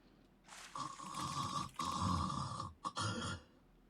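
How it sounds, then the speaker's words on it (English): A person napping snores with a long rasping inhale followed by a second drawn-out snore and a short snort, close and fairly quiet, no talk. "She normally is absolutely snoring."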